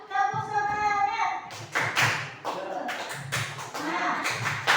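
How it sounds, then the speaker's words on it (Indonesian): A group of adults claps the tepuk semangat chant together, with sharp rhythmic bursts of hand claps in a patterned beat. A voice speaks briefly at the start. "Ya, kita tepuk semangat bareng ya."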